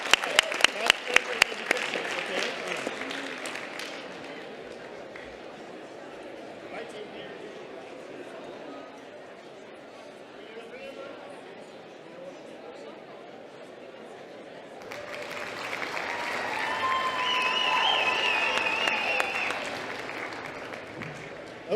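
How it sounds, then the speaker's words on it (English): Scattered clapping from an audience at a live championship event, the CHEST Challenge Championship 2022, opens loudly and then fades into a quieter room murmur. Later a second swell of crowd noise and voices rises, with people talking throughout. "give yourselves a round of applause"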